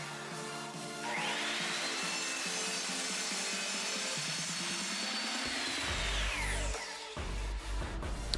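Miter saw spinning up and slicing through a wooden board for a DIY lumber storage rack, a loud sustained whine with a rising cutting tone over several seconds before spinning down, heard alone up close.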